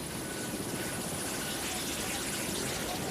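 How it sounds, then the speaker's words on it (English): Soviet helicopter gunship flying over Afghanistan, a loud, steady rotor thrum and turbine roar sustained throughout without breaks. "a conflict dominated by the helicopter gunship"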